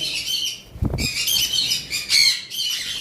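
A breeding pair of red pineapple conures flap their wings in a short, close burst, surrounded by harsh, loud squawks that come in several bursts before and after the wingbeats.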